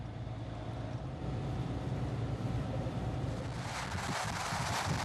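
Broad, rushing wind noise buffeting the microphone on a road in northern Germany, steady and fairly loud, growing harsher toward the end with a low truck rumble underneath.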